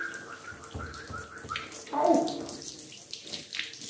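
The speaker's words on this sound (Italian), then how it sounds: "perché adesso l'acqua fa un po' di rumore." Tap water runs steadily during hair washing, with a louder gush near the middle; splashing and handling noises mix in, with no talk.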